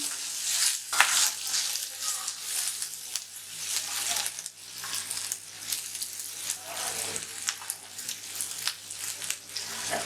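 Chopped onion sautéing in a pan for an okra (bhindi masala) gravy, with a constant close sizzle, stirring scrapes and light clinks running without a break and no talking.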